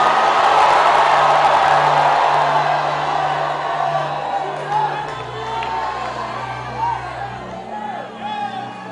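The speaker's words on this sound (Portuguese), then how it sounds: "Quem crê no que eu estou dizendo, dê um grito para esta rua inteira ouvir." Street crowd at an outdoor preaching event shouting, whooping and cheering together in a loud sustained roar that slowly eases, with scattered cries rising over the din.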